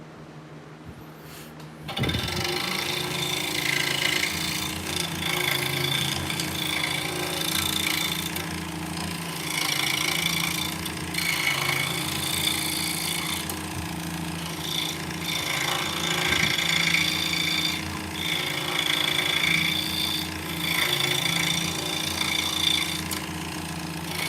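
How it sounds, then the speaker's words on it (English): A power tool cuts a rectangular mortise in wood for a drop spindle, running as a steady, loud, continuous drone with shifting pitch and texture for over twenty seconds after a brief quieter start, with no talk. "So right now we're cutting out basically a mortise."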